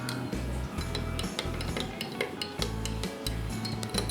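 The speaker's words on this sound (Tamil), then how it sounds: "இந்த காஃபியை நல்லா மிக்ஸ் பண்ணிக்கிறேன்." Spoon clinking and scraping as instant coffee powder is stirred into warm milk in a cup, a steady run of close metallic taps and swirls with no talking.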